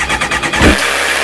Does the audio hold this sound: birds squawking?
no